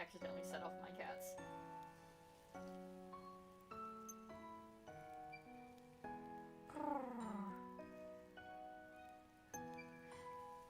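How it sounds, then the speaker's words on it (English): Pet cats meowing in bursts of short, high cries with rising and falling pitch, one drawn-out call near the middle standing out, over game music. "I think I accidentally set off my cats."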